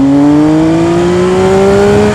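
A motorcycle engine revving out on a ride, loud and close, with a steady tone rising slowly over about two seconds and no talking.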